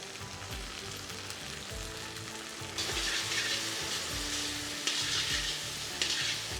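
Loud, close sizzling and crackling of tomatoes frying in a pan, with scraping stir strokes; the sizzle surges louder partway through.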